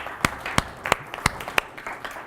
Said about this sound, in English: So let's applaud him once again.